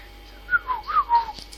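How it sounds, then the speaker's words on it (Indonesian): A person whistles a short run of four or five clear, bright notes in a Minecraft session, standing out over a quiet background with no speech. "ini sudah malam, jadi jangan bersiul"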